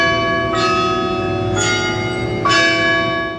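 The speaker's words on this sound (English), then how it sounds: "hours by the toll of a bell" A church bell tolls three times at an even pace, each deep, ringing stroke loud and close, with a long humming decay that carries into the next strike.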